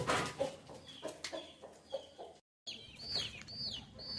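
Hens of a rare new breed cluck on a farm, giving a string of short, nearby clucks and squawky calls with a brief gap of silence partway through, moderately quiet and with no talking.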